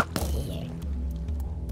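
One sharp thwack of an archer unit's arrow being shot in a video game, followed by a low rumbling ambience and a few faint clicks.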